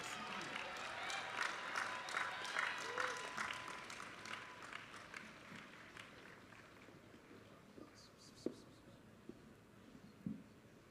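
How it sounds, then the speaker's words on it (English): A commencement audience in a large hall applauds at a university graduation ceremony, with sustained, fairly distant clapping that gradually thins out, while a few scattered louder claps and faint voices come through near the end. "Join me in a round of applause, please."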